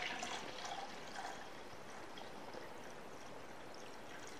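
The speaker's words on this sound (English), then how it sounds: "I'm just going to pour into a measuring cup that has a nice lip that'll be easy to pour from." Warmed young coconut water poured from a jar into a lipped measuring cup, a steady soft stream of trickling liquid that runs continuously and fairly quietly.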